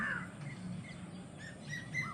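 Crows and other birds call faintly at Vaduvur bird sanctuary near Mannargudi, a few scattered caws and chirps sounding distant over a low outdoor background.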